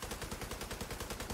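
Rapid, evenly spaced bursts of machine gun fire in a video game roll on without a break, a fast thudding rattle at low volume with no speech.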